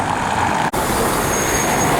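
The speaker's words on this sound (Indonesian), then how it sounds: "selain ada suara dari permukaan jalan juga, mobil yang melewati permukaan jalan seperti ini akan relatif lebih perlahan ya" Cars roll over a textured road surface in Poland, a steady broadband tyre rumble and traffic noise with a brief dropout partway through, no voices.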